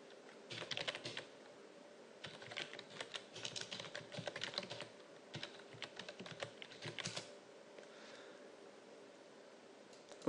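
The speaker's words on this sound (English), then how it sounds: "I'm just going to go Windows key and run and type in C" Quick irregular keystrokes clatter on a computer keyboard, bursts of light tapping with brief pauses over soft background hiss, faint and close, without speech.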